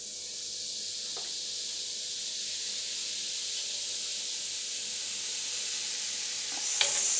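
Citric acid poured slowly onto baking soda in a homemade laundry mixture fizzes and foams, giving a steady, continuous hiss that builds slightly and stays close, with a brief rustle near the end.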